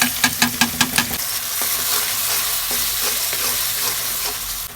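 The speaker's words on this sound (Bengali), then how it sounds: "এর মধ্যে আমি চিংড়ি মাছ দিয়ে দিয়েছি আমি বেশ কিছুক্ষণ ভেজে নেব" Shrimp sizzle steadily in a hot pan with ginger, garlic and onion paste, opening with a quick run of rhythmic utensil clinks against the pan before settling into a continuous close, even frying hiss.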